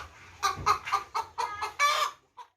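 Rhode Island Red chickens cluck in a coop, giving a run of about six close, fairly loud squawking calls in an uneven rhythm, then one faint final cluck. No one talks.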